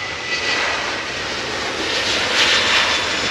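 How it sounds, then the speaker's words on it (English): EasyJet airliner jet engines taxiing at Manchester Airport give a steady, loud, broad roar that holds evenly throughout, swelling slightly near the end. "EasyJet taxiing in ahead of them."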